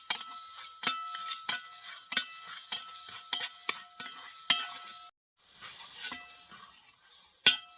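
Spoon stirring chicken masala and pepper powder in a pan, a steady run of sharp scraping clinks with a faint sizzle beneath, close and alone, with a brief pause near the end.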